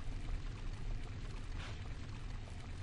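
Water pours into a large flask inside an Egyptian temple level of Tomb Raider IV: The Last Revelation, a short faint splash over a steady low game ambience.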